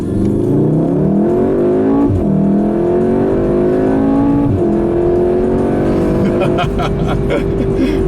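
A 2016 Volkswagen Golf R with a DSG gearbox accelerates hard. The loud engine note climbs repeatedly and drops sharply at quick gear changes around every two seconds, ending in a higher, sustained roar.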